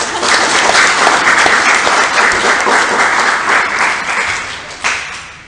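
Loud, dense audience applause fills a seminar room on zakat and fundraising, sustained evenly before tapering slightly near the end.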